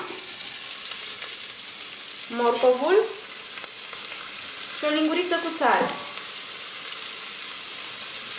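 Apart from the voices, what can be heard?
onion and carrot frying in oil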